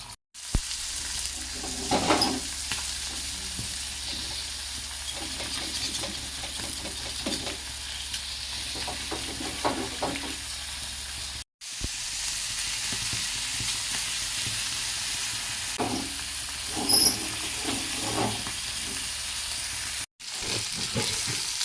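Fish frying in hot oil in a pan, pieces turned so each side cooks, giving a steady close sizzle with crackling bursts throughout, briefly cut by two short gaps.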